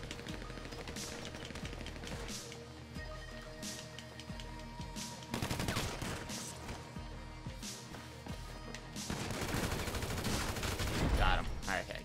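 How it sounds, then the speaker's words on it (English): Bursts of rapid gunfire in the video game GTA Online, repeated volleys and single shots at moderate loudness, growing denser and harsher toward the end, with game sounds between. "God dang it, quit shooting me."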